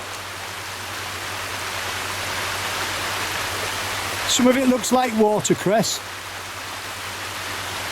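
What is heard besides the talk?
stream flowing in Yorkshire Dales watercourse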